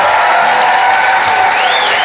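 Studio audience at a live German late-night comedy show applauding and cheering, a dense continuous wash of clapping and shouts that stays loud and steady throughout.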